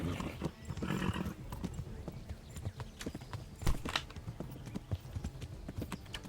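Horse hooves in the video game Kingdom Come: Deliverance clip-clop in a steady galloping rhythm, close and fairly loud, with occasional sharper thuds.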